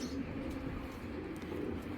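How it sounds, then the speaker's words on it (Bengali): A silver khaki male pigeon coos in low, soft murmurs against a steady, noisy background, close by and fairly faint. "এই কবুতরটা হলো সিলভার খাকি একটা নর"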